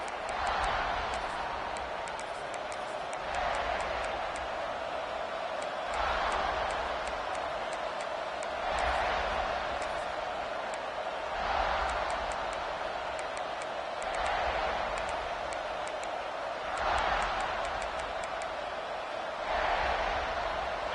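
College football stadium crowd at a Tennessee versus South Carolina game, a constant roaring wash of distant crowd noise that swells periodically, loud and continuous without clear speech.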